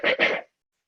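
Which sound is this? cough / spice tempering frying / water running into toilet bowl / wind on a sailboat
cough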